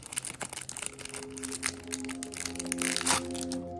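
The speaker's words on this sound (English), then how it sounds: "let's peel the plastic so we can open them" Plastic wrap being peeled off a 58mm camera lens filter kit box, a faint, close crinkling and crackling that comes in scattered bursts and builds toward the end.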